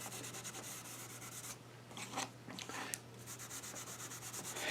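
Steel wool with a little wax rubbed over tiger maple wood coasters, a soft, quiet scrubbing hiss in quick repeated strokes, pausing briefly midway before resuming, with no talking.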